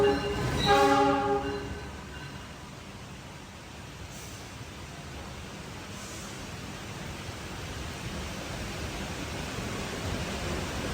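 The Argo Lawu executive train, travelling from Yogyakarta toward Jakarta, sounds a brief horn blast, then gives a steady, loud rumble and roar of rolling on rails that continues with no talking.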